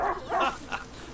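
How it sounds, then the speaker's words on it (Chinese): A dog in the video game A Plague Tale: Innocence gives two or three short, close barks and yips in quick succession, with faint talk around them. "原来我们那一只狗狗叫李阳"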